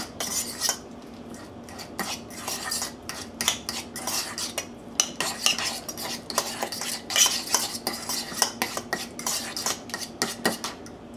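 Baby back ribs being smushed around in Grey Poupon horseradish mustard, with repeated close clattering of utensils and dish scraping in an uneven rhythm, fairly steady throughout.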